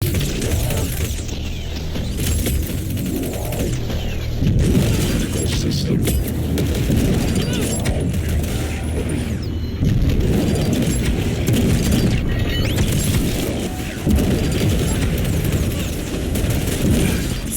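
Rocket launcher blasts in the shooter game Sprawl, a dense, loud run of booming explosions and mechanical clatter repeating every few seconds amid constant gunfire.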